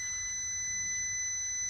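A steady, high-pitched warning beep from a Nissan S15 Silvia after a fog light install, holding continuously over a low background hum, with no breaks or talking.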